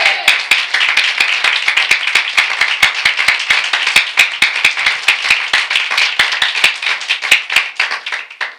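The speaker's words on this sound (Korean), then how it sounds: "우리 하나님께 박수로 영광 돌리겠습니다." A congregation claps together during a Korean Sunday worship service at church, a steady mass of hand claps with sharper individual claps standing out, loud and sustained without talk.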